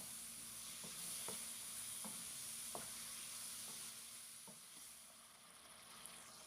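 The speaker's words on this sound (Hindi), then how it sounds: "और अब हम इसको मीडियम फ्लेम पे तब तक फ्राई करेंगे कि हमारे टमाटर जो हैं ये भी अच्छी तरह से गल जाएं और मसाला भी हमारा अच्छे से भुन जाए" Tomatoes and masala for achari mutton karahi fry on a medium flame, giving a steady quiet sizzle with a handful of soft scraping stirs spaced about a second apart.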